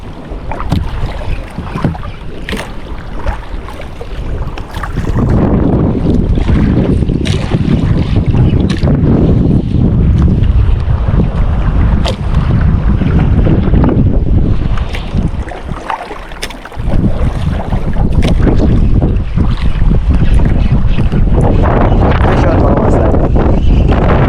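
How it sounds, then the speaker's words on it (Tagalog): Small fishing boat being turned on open water during an ultralight casting trip, heavy wind buffeting the microphone with engine and water rush, loud and continuous, with brief voices. "Ako pipihit na naman ng bangka."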